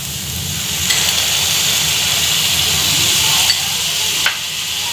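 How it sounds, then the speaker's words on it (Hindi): Ginger garlic paste sizzles steadily in a pan while making veg Manchurian, a continuous bright frying hiss with a few brief stirring scrapes, close and fairly loud with no voices. "अब हम इसमें जिंजर गार्लिक का पेस्ट ऐड करेंगे। इसे डालने के बाद 1 से 2 मिनट तक हम इसे कुक करेंगे।"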